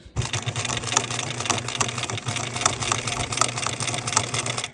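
A sewing machine fitted with a heavy needle stitches through thick denim layers, a steady close rapid mechanical chatter running without pause.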